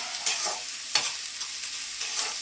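Chicken curry ingredients fry and sizzle in a pan, a steady hiss broken by a few sharp stirring scrapes, close and fairly loud with no talking.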